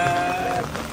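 Steady rain falls outdoors in a broad continuous hiss with scattered drops pattering on surfaces, fairly loud and close, with no voices.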